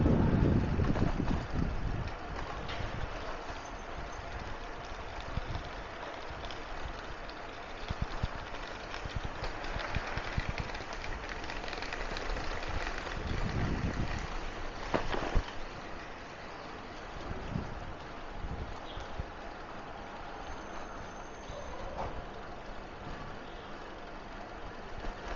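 Breeze rushes across the microphone while cycling along a shaded residential path, with a steady low wind roar and light rattling from the bike throughout.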